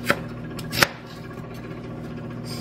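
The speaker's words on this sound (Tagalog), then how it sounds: "maghiwa ako ng sibuyas" A knife strikes a cutting board a couple of times while slicing onion, crisp close thuds over a steady low background hum.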